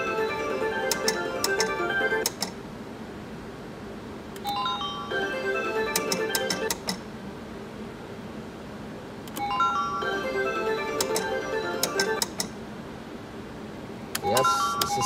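Wheel of Fortune slot machine spinning its reels, with bright electronic chiming jingles in repeating bursts separated by short pauses, a person talking between spins.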